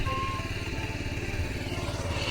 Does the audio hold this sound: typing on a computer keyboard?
no